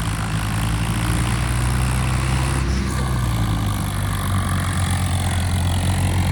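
A Swaraj 855 tractor engine straining to pull a stuck trolley, a loud, steady diesel drone that holds without a break from start to finish, with no voices.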